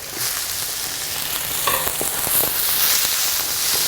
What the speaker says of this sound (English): I'm going to fry this up